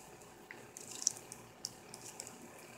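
Small pet bird splashing in a bath of water, with faint scattered drips and light flicks of water, quiet and close, without talk.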